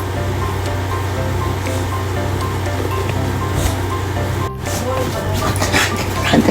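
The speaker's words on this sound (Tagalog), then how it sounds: "antay mo lang kumulo" Filipino kinamatisan tomato stew with pechay bubbles in a pot, a loud, steady rushing boil heard up close that runs throughout, with a brief clatter near the end.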